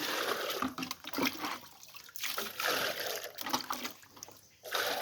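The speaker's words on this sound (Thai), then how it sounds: "ให้เราไปตักน้ำเข้ามาใส่อย่างนี้นะครับนี่ น้ำธรรมดาเลยไม่มีอะไรเลย" Plain water is scooped and poured into a cut-off plastic container outdoors, giving close splashing and trickling in uneven bursts with brief quiet gaps between scoops.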